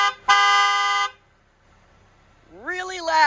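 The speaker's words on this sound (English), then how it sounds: "Horn test." A 2021 Mercedes-AMG GLB 35 SUV gives one loud, close horn blast lasting under a second. A pause follows, then a brief voice rises at the end.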